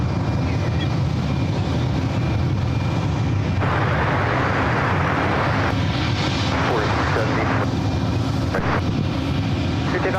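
Porter Embraer E2 jet taking off from SFO runway 1 right, a heavy continuous engine roar that swells midway with gusty wind buffeting the microphone, while a voice talks over it.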